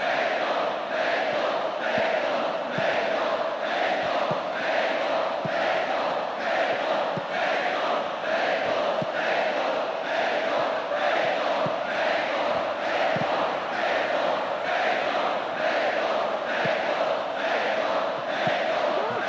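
A stadium crowd in the PES 2009 football video game roars steadily, a loud, sustained wall of cheering and chanting that runs throughout without pause.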